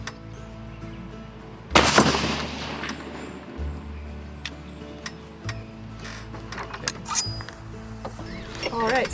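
A single loud 12 gauge shotgun blast firing a 2 3/4 inch Top Gun target load of number 8 shot outdoors, a sharp report followed by faint ambient noise and a few small clicks.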